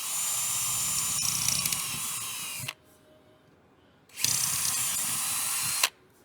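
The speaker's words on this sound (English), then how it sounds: "Let's drill these 2 holes out real quick." A power drill bores two holes during an '81 Ford F100 build, running in two steady whining bursts of a few seconds each, separated by a short quiet pause and ending abruptly.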